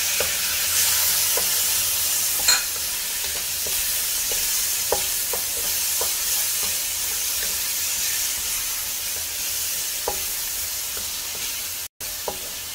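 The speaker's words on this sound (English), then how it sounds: "I'm going to let the tomatoes cook." Tomatoes frying in a pan for a Chettinad mutton bone curry give a steady soft sizzle and hiss, broken by occasional sharp pops and crackles, with no one speaking.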